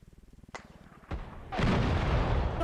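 A tank gun fires in a military simulation game, first a rapid engine-like pulsing, then two sharp cracks, and finally a heavy, sustained booming roar that fills the last second, fairly distant and muffled.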